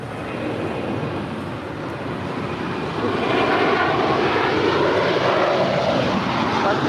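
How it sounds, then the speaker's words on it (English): An American Airlines jet taking off from Los Angeles International Airport, a loud sustained engine roar that swells and grows fuller partway through, continuous and dominant with no talking. "That was American Airlines 1871 departing to Charlotte."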